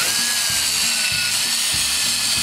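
A power drill grinds steadily into a broken bolt, a loud continuous whine with a pulsing low rumble from the spinning bit under pressure, close and unbroken.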